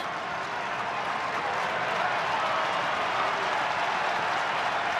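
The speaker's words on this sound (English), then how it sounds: "Crowd starting to buzz" Steady crowd buzz fills a baseball stadium during the top of the first inning of a Mets–Brewers Wild Card playoff game, a continuous loud wash of murmur and scattered clapping with no break.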